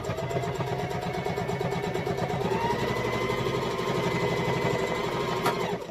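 A sewing machine stitching a fabric face mask, running in a fast, even mechanical rattle close by for several seconds with no pause, ending with a brief back stitch.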